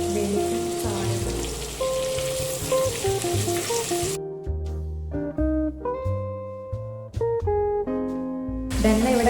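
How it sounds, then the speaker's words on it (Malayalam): Chicken shallow-fries in oil in a pan in a hostel kitchen. A loud, steady hiss fills the first few seconds under tuneful background music, then drops away as the music carries on. "ചിക്കൻ ഡീപ് ഫ്രൈ ചെയ്യുന്നില്ല, ജസ്റ്റ് ഒരു ഷാലോ ഫ്രൈ പോലെ ഒന്നൊന്ന് പൊരിഞ്ഞിട്ടാൻ വേണ്ടിയിട്ട്"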